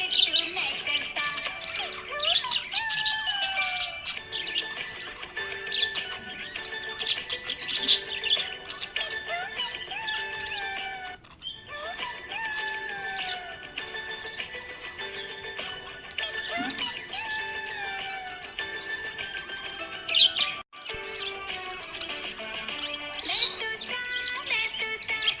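A happy budgie chirps and twitters continuously, with high bright calls and warbles that stay steady and fairly loud over a dense, busy background that runs throughout.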